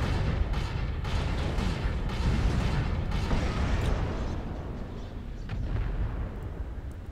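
Continuous heavy barrage of explosions and gunfire from a multiplayer combat video game, dense and loud throughout with overlapping booms and no clear gaps.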